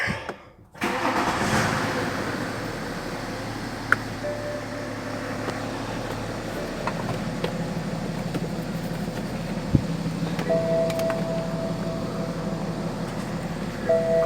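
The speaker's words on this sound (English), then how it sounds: "Now let's try starting the car." A BMW F07 with an N57 diesel engine cranks and fires after a brief silence, then settles into a steady, loud diesel idle with a low rumble and occasional small clicks, heard close for over ten seconds.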